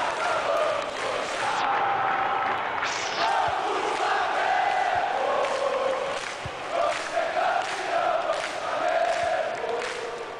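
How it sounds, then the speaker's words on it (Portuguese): Stadium crowd in FIFA 18 celebrating a Flamengo goal in a 4-0 rout of Corinthians at Ilha do Urubu, a steady roar of fans cheering and chanting throughout, loud and continuous with rising surges. "Comemora muito a torcida rubro-negra aqui na ilha."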